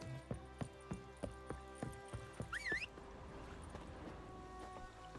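A horse in The Witcher 3, Geralt's mount Roach, with rhythmic clip-clop hoofbeats under steady ambient music, a sharp chirping cue briefly overlapping near the middle.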